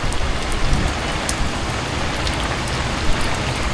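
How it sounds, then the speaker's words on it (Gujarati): Morning rain falls steadily in a dense, even hiss of drops striking surfaces, loud and close with no voices. "વરસાદ ચાલુ થઈ ગયો છે ભાઈ"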